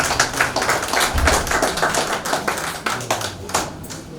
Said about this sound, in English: And you clap for us, please.